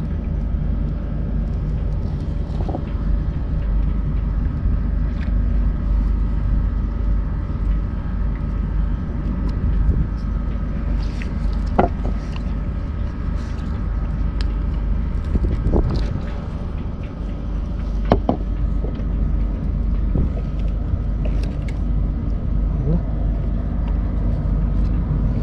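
Strong wind at sea during a fishing trip, a steady, loud broadband roar that fills the whole stretch, with faint scattered knocks and no talk.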